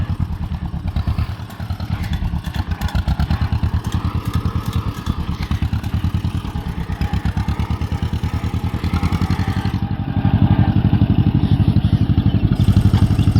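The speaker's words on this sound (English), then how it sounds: "It's a 1952 John Deere MT." A 1952 John Deere MT tractor engine runs close by with a steady, rapid putting beat and a clattering mechanical edge, becoming slightly louder and fuller near the end.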